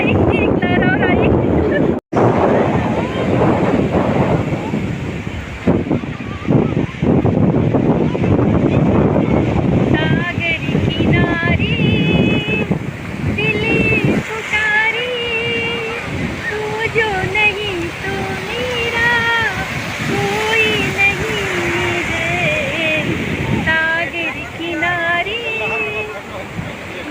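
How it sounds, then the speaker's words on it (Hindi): Ocean waves roll and break on Puri beach in a steady, loud wash, with strong wind buffeting the microphone, while voices talk over the surf. "फिर लहर आई, एक लहर और आई।"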